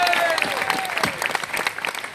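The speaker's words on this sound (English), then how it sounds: "Please, can we give a round of applause for Bad and Nicky?" Live evening audience at a boxing talk event featuring Anthony Joshua and Eddie Hearn gives a round of applause, moderately loud, steady crowd clapping with a few whistles and whoops mixed in.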